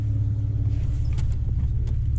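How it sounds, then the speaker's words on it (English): A Chrysler Crossfire SRT6 idles after an adjustment to its fuel pressure, with a steady, close, low engine rumble and a few faint clicks on top. "The car's been idling now for a few minutes with the new fuel pressure."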